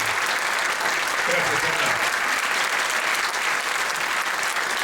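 Audience applause at a theatre-related event, a dense steady clapping from a crowd filling the whole stretch, with a voice speaking briefly over it.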